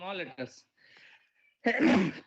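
A person sneezes once, loud and close, in a short burst that follows a brief stretch of talk and a quiet pause.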